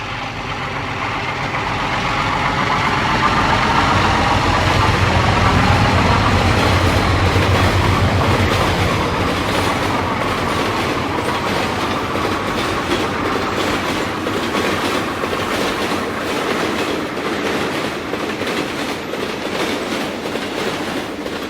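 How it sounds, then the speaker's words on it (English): The all-parlor-car Cannonball, Train 22, passes near Union Hall Street east of Jamaica, pulled by two ALCo RS3 diesel locomotives: engines swell and hold loud, with steady wheel clatter over the rails. "Train 22, the all-parlor car Cannonball, powered by a brace of RS3s,"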